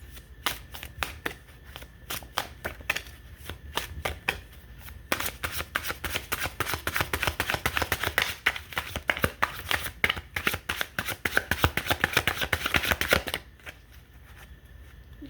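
Oversized tarot cards are shuffled by hand in a quiet room, with a rapid series of soft riffling slaps and flutters that thicken into a dense, continuous burst before stopping abruptly.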